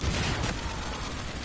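Video game gunfire in a dense, noisy burst of rapid shots, loud and continuous without clear separation between rounds.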